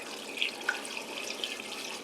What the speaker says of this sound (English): Get some water going in here.